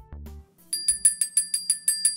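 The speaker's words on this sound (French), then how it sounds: "la cloche indique le début du cours" A cartoon school bell rings to mark the start of class: a rapid run of bright, evenly spaced metallic rings, clear and close, after a brief low sound.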